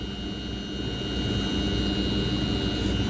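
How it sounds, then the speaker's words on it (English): Outdoor heat pump condenser fan and compressor running steadily, a continuous broadband whir with a low hum, close and fairly loud with no pauses. "my condenser fan right here, and it's running."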